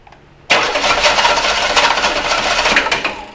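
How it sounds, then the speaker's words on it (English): A car starter motor run by hand, with a screwdriver bridging the solenoid terminals: it kicks in abruptly and whirs loudly and steadily for about three seconds at close range, then begins to fade. "we can cause the starter to run"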